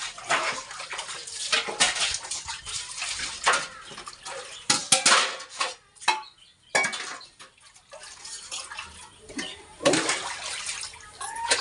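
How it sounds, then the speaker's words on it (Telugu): Clothes being washed by hand in a home, with irregular bursts of splashing, sloshing and rubbing water sounds that come and go over a steady background. "బట్టలు ఉతికాలంటే పనే ఇలాగైతే శుభ్రంగా కడిగేసుకోవాలండి"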